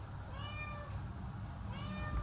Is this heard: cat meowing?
yes